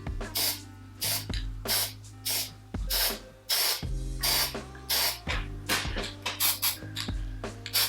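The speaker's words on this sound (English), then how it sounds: "You're spraying like this, you're spraying onto this part here of the straight edge" Spray paint can hissing onto dreamcatcher art in a quick run of short, close bursts of varying length, with steady tonal music playing underneath.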